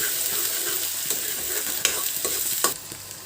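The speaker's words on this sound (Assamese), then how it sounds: "মই পিঁয়াজখিনি ৰঙা নোহোৱালৈকে লৰাই থাকিম।" Onions sizzle steadily in a hot pan, stirred until reddish, while a utensil stirs and scrapes now and then, with occasional sharper clinks.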